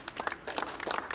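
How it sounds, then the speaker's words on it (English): Cricket players from both teams applaud themselves after an over-40s Masters match between Namibia and Australia, a short burst of scattered outdoor clapping at moderate distance. "Give yourselves a round of applause"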